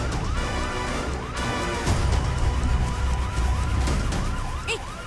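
An ambulance siren wails in loud, rapidly repeating rising-and-falling sweeps, with a sharp crash-like hit near the start against a busy background.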